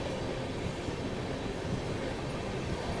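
A WAG9 electric locomotive train running near KR Puram, a steady low rumbling roar heard from inside or alongside the moving train, continuous and moderately loud with no talk.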